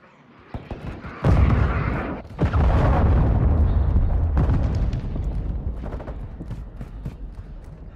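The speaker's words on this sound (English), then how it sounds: "Hostile cruise missile launched." A hostile cruise missile strikes in Call of Duty MW2 with heavy booming explosions, a sharp blast followed by a long, loud rolling rumble, with scattered gunfire pops around it.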